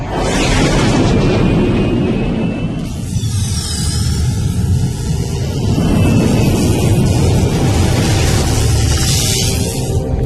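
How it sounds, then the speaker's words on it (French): Explosion in a French-dubbed Galactik Football animated episode, a loud sustained roaring blast with rumbling and crackling that swells and rolls on for about ten seconds. "Et éloignons-nous de l'explosion."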